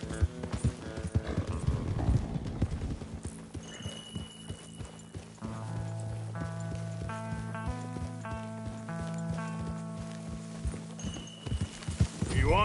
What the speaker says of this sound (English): Come on, horses.